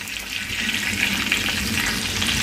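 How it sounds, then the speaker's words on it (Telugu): Chicken leg pieces frying in hot oil for chicken mandi, a steady, dense crackling sizzle that holds loud and even throughout, with no voices. "ఇవన్నీ చికెన్ పీసులు వేగిపోయి తీసేస్తున్నాయి"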